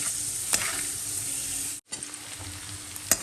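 Sliced carrots and onion fry in oil for pulao, hissing loudly with sharp stirring clinks, a brief pause, then the sizzle carrying on.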